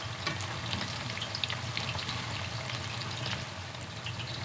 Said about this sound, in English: Now when we deep fry for the second time, we're going to let it fry for another 3 minutes at this higher temperature